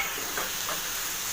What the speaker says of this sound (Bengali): এবার আমি এর মধ্যে ভেজে রাখা আলুগুলোকে দিয়ে দিচ্ছি